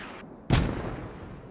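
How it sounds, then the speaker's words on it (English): Mortar shell impact in the military shooter game Squad: a single sharp distant boom that fades into a rumbling tail, preceded by faint background noise. "it's like those mortars are landing pretty good, maybe?"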